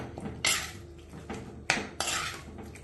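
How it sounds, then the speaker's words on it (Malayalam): Pineapple pickle sweetened with jaggery is stirred in a pot, a spoon scraping and clinking against the metal in several loud, close bursts. "ഇതൊന്ന് ഇളക്കി കൊടുക്കാം"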